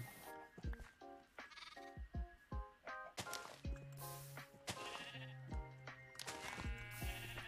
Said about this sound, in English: we got enough sheep here